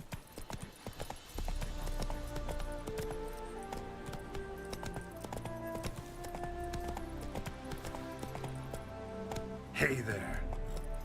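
Roach, Geralt's horse in The Witcher 3: Wild Hunt, trots with a steady clip-clop of hooves, close and rhythmic, under game music, with a short whinny-like burst near the end.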